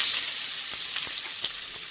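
Chopped onion sizzles in hot oil in a kadai wok, a steady close hiss with a few brief crackling spikes running through the whole stretch, with no talking.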